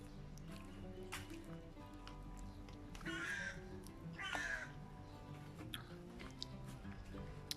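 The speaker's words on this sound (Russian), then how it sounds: "Эти вороны кричат и кричат целый день." Crows cawing around a rural garden plot, two loud harsh calls standing out in the middle with fainter caws scattered before and after over a steady outdoor background, with no talking.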